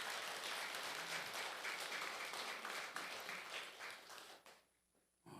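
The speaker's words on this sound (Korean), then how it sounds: "여러분들 각자 수고하셨다고 박수 한번 쳐주세요." A temple congregation at a Buddhist lantern-lighting service applauds together, a dense, steady wash of clapping that fades out near the end.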